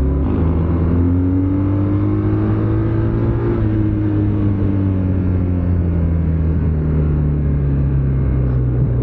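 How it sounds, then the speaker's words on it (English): A BMW R12 nineT motorcycle engine pulls hard under acceleration, its loud, steady drone climbing in pitch and then easing back as it keeps running, with no voices. "Acceleration wise, this is a torque monster."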